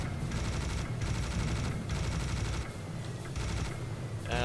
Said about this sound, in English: Let's fire a couple rockets at you. And then switch to the minigun.